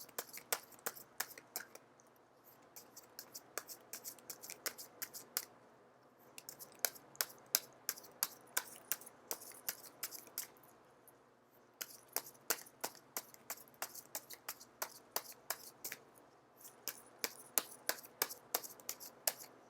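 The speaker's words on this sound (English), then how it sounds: "I am going to shuffle until the first card drops out" Tarot cards being shuffled nearby, quick crisp riffles and taps in bursts with short pauses between, quiet and close.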